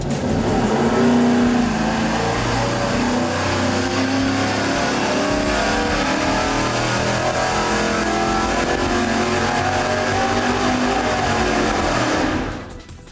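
V8 engine on a dyno during a full pull, a loud continuous roar that climbs and holds through the run for about twelve seconds before dropping off sharply, with no talking over it.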